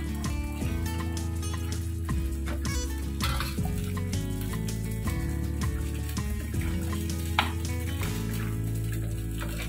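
A thick kadappa curry simmers in a pan, bubbling and popping steadily with a constant sizzle, accompanied by background music.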